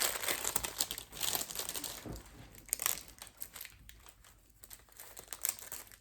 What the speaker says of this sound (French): Peut-être le sortir du papier.